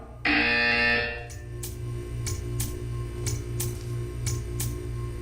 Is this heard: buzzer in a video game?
yes